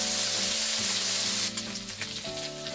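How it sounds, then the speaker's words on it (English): Bacon sizzles steadily on a hot plancha, a close, bright frying hiss that stays loud throughout with a few small shifts in texture and soft background music. "Now the bacon's pretty much cooked through, so it's time to move it to the cooler side of the plancha"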